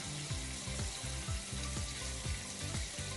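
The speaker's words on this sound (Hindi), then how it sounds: "इसलिए हमारी ऑलमोस्ट एक बैच पनीर का फ्राई हो गया" Paneer frying in a pan, a steady dense sizzle with repeated rhythmic scraping strokes across it, close and continuous.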